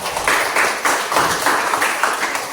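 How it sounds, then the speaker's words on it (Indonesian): A brief burst of classroom applause as students clap together for a group, rhythmic and fairly close, lasting a couple of seconds. "Tepuk tangan dulu untuk Sifat."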